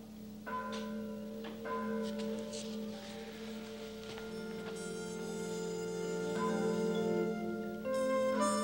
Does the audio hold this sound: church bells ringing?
yes